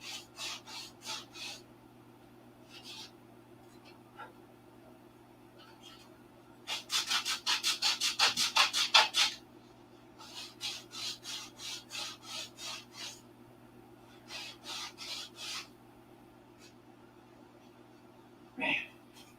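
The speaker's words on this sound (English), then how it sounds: "When sanding is so easy." A foam wing core for a 1/2A Cobra model plane is hand-sanded in bursts of rhythmic rasping strokes, some quick and dense, with quiet pauses between over a low steady hum.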